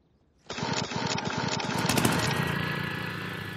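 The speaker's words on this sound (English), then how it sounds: "to start the mower, you grab this pull cord like so and give it a nice hard yank" Cartoon lawn mower started with a hard yank of the pull cord: after a brief quiet moment the engine sputters abruptly to life and settles into a loud, steady, buzzing run.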